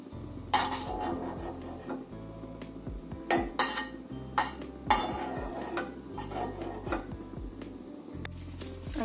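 Fried raisins are scooped out of a pan while making carrot halwa, with repeated metal spoon scrapes and clinks against the pan over a low steady hum, close and uneven.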